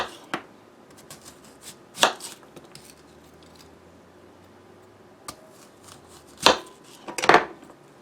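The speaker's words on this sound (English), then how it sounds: "I'm just going to slice them kind of thin." Onions sliced thin with a kitchen knife on a cutting board, giving a few sharp knife taps and clacks at uneven intervals against a quiet background, with soft scraping between cuts and no talking.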